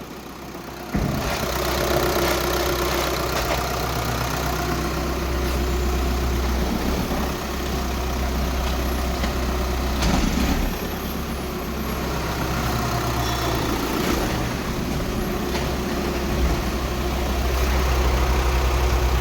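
A car with a worn clutch sits idling in a workshop, a steady low engine drone running throughout with faint mechanical rumble and small knocks over it.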